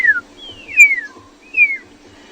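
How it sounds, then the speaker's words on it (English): A pearl-spotted owlet calls in a savanna reserve at dusk: loud, clear whistles that slide downward, repeated twice with faint low background noise underneath. "So that's from a pole-spotted owlet."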